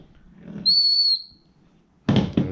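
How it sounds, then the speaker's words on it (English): A steady whistle screwed into a 1993 Ford Mustang Fox-body GT cylinder sounds as the piston rises on the compression stroke: one loud, clear, sustained tone of about half a second, close by, with faint rustling before and two louder mechanical knocks after. "I like using this whistle here to find top dead center"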